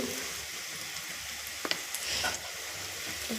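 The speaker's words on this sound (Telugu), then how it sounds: "ఉల్లిపాయ ముక్కలు ఏగుతున్నాయి కదా" Sliced onions with turmeric fry in a pan over low heat, a soft steady sizzle with a couple of brief spoon scrapes and clicks partway through; quiet and close, no talking.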